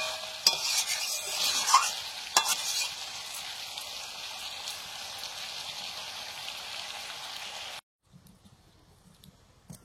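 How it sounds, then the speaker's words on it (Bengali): Chicken meat sizzles in a pan over a low flame while being stirred, a soft, continuous frying crackle with scraping stirs and sharp knocks, ending abruptly to near quiet with faint clatter. "হালকা জ্বালানিতে মাংসটা কষিয়ে নিচ্ছি, আর এদিকে সেদ্ধটাও হচ্ছে একসঙ্গে।"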